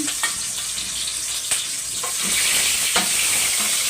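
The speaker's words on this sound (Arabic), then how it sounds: "هنحمرها طبعا في الزيت اهي" Chicken thighs crackle in hot oil with a steady hiss and a few sharp utensil taps, close and fairly loud, with no talk.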